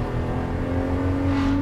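A Nissan VQ-powered 350Z is floored, and its engine drones loud and steady at high revs close by with no voices.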